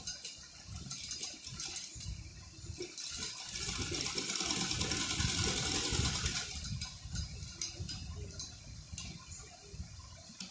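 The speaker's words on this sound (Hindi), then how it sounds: "सिलाई को डबल ले लेते हैं, कंधे की सिलाई को हमें डबल करना है" A sewing machine runs a double line of stitching along a shoulder seam of a garment, giving a continuous mechanical whir with rapid ticking that swells in the middle and then eases back, close by and without speech.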